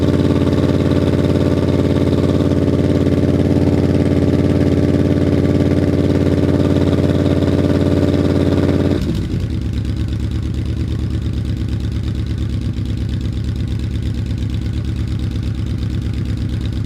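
A Yamaha Royal Star Venture motorcycle fitted with Harley mufflers idles with the choke on, a steady close low rumble that shifts to a lower, softer idle partway through.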